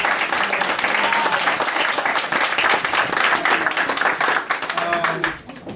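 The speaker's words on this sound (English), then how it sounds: "So a round of applause." Warm audience applause at a Lions Club signing ceremony, many hands clapping with distinct individual claps audible, steady for about five seconds before fading out, with faint voices underneath.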